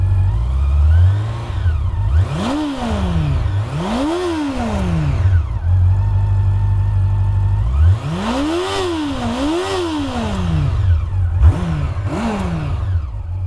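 A Honda CB400 motorcycle engine revs hard several times, each burst climbing in pitch and falling back, loud and close, with a steady idle between.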